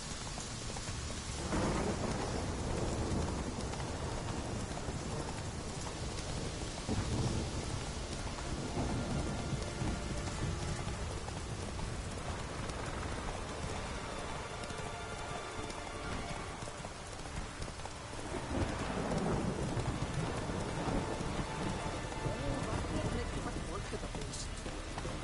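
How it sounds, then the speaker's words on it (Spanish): Steady heavy rainfall with rolling thunder in a stormy scene from The Witcher 3: Wild Hunt, a continuous wash of rain with deep rumbles swelling around the middle and near the end, plus faint hoof clip-clop and brief speech. "Joder, siempre lloviendo, loco."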